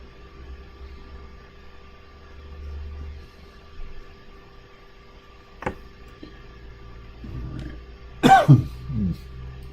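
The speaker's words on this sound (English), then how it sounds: "No, it's not COVID, it's just me coughing." A short burst of coughing near the end, two or three quick coughs over a faint steady hum, after a mostly quiet stretch.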